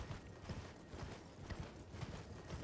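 Horse hooves galloping in a video game, a steady rhythmic thudding of hoofbeats repeating about twice a second over a faint, noisy background.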